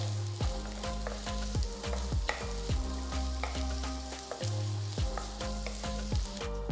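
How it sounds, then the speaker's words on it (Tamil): Garlic, ginger and chopped onions sizzle in a tablespoon of oil in a hot kadai, a continuous close frying hiss broken by regular clanks of a spoon stirring against the pan. "ஒரு கடாயை சூடாக்கி 1 டேபிள் ஸ்பூன் எண்ணெயை ஊற்றி 6 பல்லு பூண்டு, 1 துண்டு இஞ்சி, 3 நறுக்குன வெங்காயம் சேர்த்து நல்லா வதக்குங்க"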